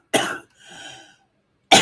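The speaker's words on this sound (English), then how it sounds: "I got a cough." Two sharp, close coughs with a short throat-clearing rasp between them, alone in an otherwise quiet room.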